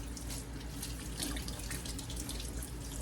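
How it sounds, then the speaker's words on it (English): Tap water runs steadily into a sink as vegetables are rinsed under it, a constant close splashing hiss with no talk. "So I'm just going to rinse them"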